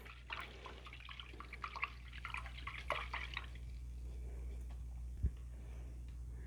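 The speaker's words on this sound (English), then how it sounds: "So I'm going to rinse that out." An acrylic paint brush is swished and rinsed in a water cup, giving soft, close splashing and dripping sounds in short bursts, then quieter trickles over a low background hum.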